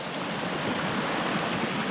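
A mountain stream in the Adirondacks runs swollen during heavy winter rain, a dense, continuous rushing roar of water close by, steady in level with no voices.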